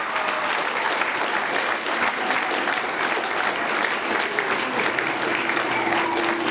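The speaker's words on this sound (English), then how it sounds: "let's give a round of applause for being up there." An audience at a small-town variety show bursts into sustained, dense applause, loud and continuous for several seconds, with a few faint cheers mixed in.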